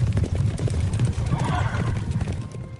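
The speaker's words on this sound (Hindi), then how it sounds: "तभी अचानक बाहर से घोड़े की टाप सुनाई दी।" Horse hooves clip-clopping outside as a rider approaches a ruined building, a busy rhythmic patter of hoofbeats with a brief whinny, steady and fairly loud throughout.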